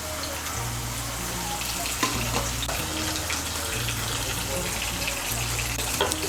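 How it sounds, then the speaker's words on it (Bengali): Cut potato pieces with salt and turmeric frying in hot oil in a wok, a steady close sizzle with faint stirring clicks and a low hum underneath. "এর মধ্যে আমি আলুগুলো ভেজে নিচ্ছি।"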